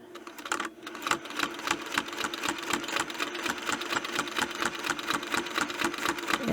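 Sewing machine quilting along a Westalee ruler template, its needle hammering in a fast, even rhythm of close, loud stitches that continues steadily without pause.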